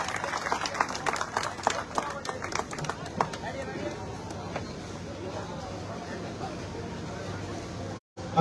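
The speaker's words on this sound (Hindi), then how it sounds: "मंच पे आपका तालियों से स्वागत करें।" An audience at an oath-taking ceremony of Anjuman Islamia in Chakradharpur claps to welcome a guest on stage, a brief scattered burst of clapping that fades into a murmuring crowd and speech.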